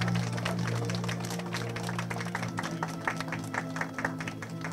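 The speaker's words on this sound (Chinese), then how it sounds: "大家掌声鼓励一下。" An audience at a business presentation applauds, a dense, steady patter of many hands clapping at moderate distance that carries on for several seconds over a low steady hum.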